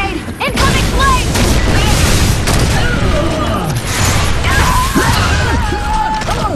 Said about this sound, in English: Enemy spot grenade!